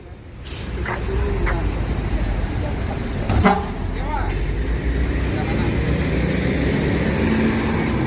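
An ANS bus from Padang rumbles steadily up close, with a sharp hiss like an air brake release partway through.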